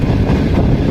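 Shalimar Express train running through Yusufwala railway station on the main line, a steady loud low rumble of wheels and cars rolling past close by, with some wind buffeting and no talk.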